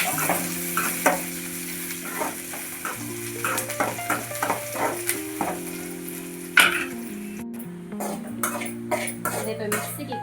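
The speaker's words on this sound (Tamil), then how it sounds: "வெங்காயம் நல்லா வதங்கிட்டோம்." Onions sauté in a pan for mutton curry with chillies added, a constant sizzle under repeated scraping and stirring strokes, with a brief louder knock partway through and music playing throughout.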